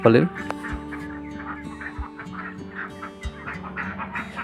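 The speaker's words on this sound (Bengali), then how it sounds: "দেখুন প্রচুর পরিমাণ গ্রামের উঠানে হাঁস" Domestic ducks quack and honk repeatedly nearby in a village yard in Bakerganj, Barishal, a loud call at the start followed by scattered quacking from the flock.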